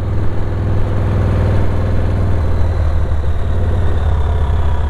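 A ZERO Engineering Type 5 motorcycle engine idles with a deep, steady low throb, close and loud, holding an even rumble throughout without talk.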